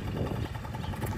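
A Honda Giorno 50cc two-stroke scooter idles steadily nearby, a continuous low buzzing engine note with slight fluctuation and no talk over it.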